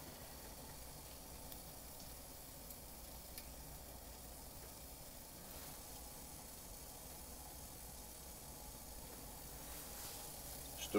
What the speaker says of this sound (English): Stove burns nice.